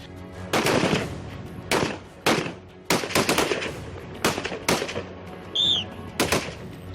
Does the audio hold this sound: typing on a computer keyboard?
no